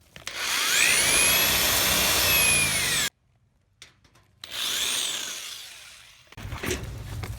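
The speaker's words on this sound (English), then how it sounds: "I just drill out some rivets." A power drill bores out rivets on a PC case in two loud, close bursts, its whine rising and falling, with a short quiet gap of handling noises between them.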